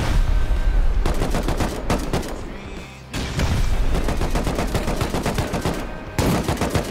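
Rapid gunfire in a video game, dense bursts of sharp shots in long rattling volleys separated by brief pauses, loud and close with faint voices underneath.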